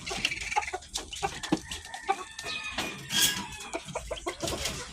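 Chickens cluck busily at close range while being fed, with a dense run of short, overlapping clucks and squawks, some louder calls standing out, and no pauses.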